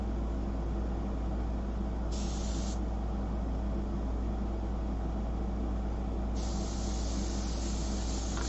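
An airbrush sprays paint onto a full-color fashion portrait, giving a steady faint hiss throughout with a brief brighter burst of spray and a longer one near the end.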